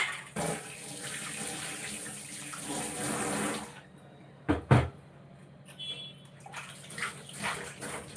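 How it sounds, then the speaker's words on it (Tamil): Tap water running while brass puja vessels are rinsed, a steady splashing stream for several seconds, then a pause with a couple of clunks of metal, before the water flows and splashes again, close by. "நல்ல தண்ணியில் அலம்புங்க"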